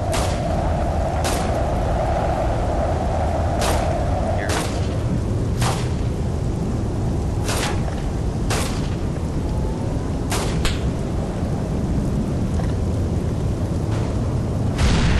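Repeated sharp booms of grenade and weapon explosions in Arma 3, roughly a dozen loud cracks spread unevenly over a steady rumbling battlefield background, with no talk.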